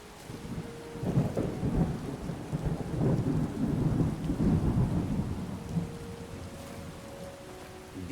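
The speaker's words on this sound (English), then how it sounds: "Oh, here comes the damn rain again." Rain and rolling thunder in the Skyrim video game, a steady downpour with low booming rumbles building and fading across the scene, with faint tonal game sounds near the end.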